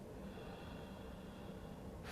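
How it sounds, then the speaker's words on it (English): Slow, deep breathing during a gentle yoga breathing meditation, a steady close airy rush of breath sustained throughout at low volume. "pay attention to the sound of your breath"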